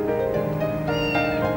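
A cat meows close by in a drawn-out, rising and falling call with a clear tonal quality, followed by a second wavering meow, loud and alone.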